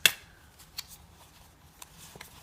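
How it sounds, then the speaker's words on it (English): Tarot cards shuffled by hand, a sharp riffle at the start and then a few soft scattered card slaps and light rustles in a quiet room, no voices. "let's give the cards a good shuffle and see."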